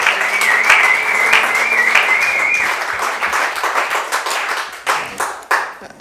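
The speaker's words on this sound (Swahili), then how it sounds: "Mpigie makofi ya heshima." A church congregation applauds, a dense, lively wash of clapping with some whistling and cheering at first, thinning into scattered individual claps by the end.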